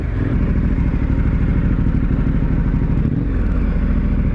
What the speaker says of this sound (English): the amount of speed that we're getting just twisting the throttle is pretty impressive